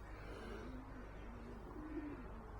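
Racing pigeons coo softly inside a loft, low repeated warbling calls rising gently over a quiet room tone, faint and close with no talking.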